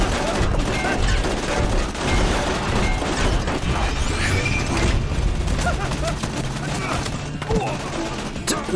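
Video game gunfire rattles in a steady, dense stream of rapid shots, mixed with crashes and booms, loud and close throughout.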